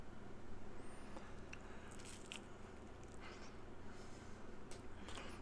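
Close crunching bites into crisp thin crust pizza cooked on a Blackstone griddle, a few sharp crackles over a faint background hum, no talking.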